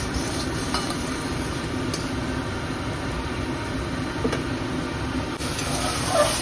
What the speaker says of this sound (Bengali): এখন ভালো করে কষিয়ে নেব মশলাটাকে